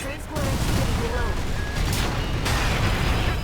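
Repeated explosions and gunfire fill a battle in the mech combat game Armored Core 6, a dense, continuous roar of blasts and bursts with a few brief higher tones over it.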